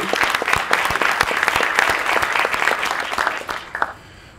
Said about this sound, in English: And round of applause for Mary.